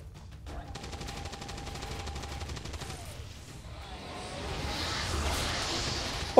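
Rapid burst of suppressive automatic gunfire in the video game XCOM 2, a fast buzzing rattle of shots for a couple of seconds, then a whooshing, hissing tail that swells as it fades.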